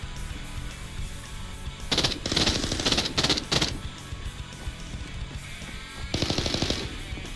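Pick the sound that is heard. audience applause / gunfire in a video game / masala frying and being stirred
gunfire in a video game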